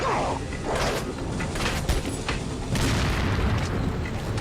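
An explosive barrel shot in the Resident Evil 4 game, heard as a loud, sustained rumbling boom that fills the whole stretch with dense low roar and crackle, with no talking.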